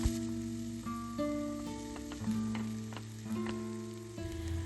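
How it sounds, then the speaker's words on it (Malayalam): Garlic, ginger and chopped onion sauté in a pan with a continuous sizzle, while a steady musical tone plays throughout and a few utensil taps come through. "രണ്ട് സവാള കൊത്തി അരിഞ്ഞതും ചേർത്ത് നന്നായിട്ട് വഴറ്റി കൊടുക്കുക"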